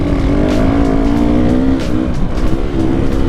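An enduro motorcycle engine revs hard during a hard enduro rally, loud and close, with a buzzing, wavering pitch that rises and dips as the throttle changes throughout.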